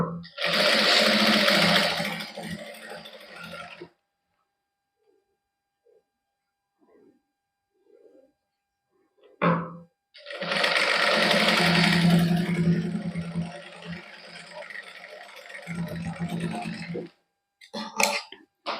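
A sewing machine runs in two long, loud whirring bursts while stitching lace onto a simple suit, separated by a quiet pause with faint handling sounds and brief speech.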